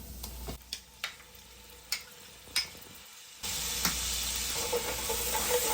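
Butter hits a hot pan while garlic butter chicken is being made, a few sharp clicks giving way to a steady, close sizzle that fills the second half.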